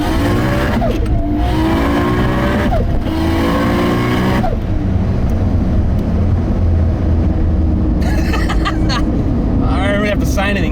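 A 700hp Nissan R32 GT-R fitted with a GTW3884 67mm turbo accelerates hard in a roll-on. The loud, close engine roar climbs in pitch through quick gear changes, then carries on as a sustained drone.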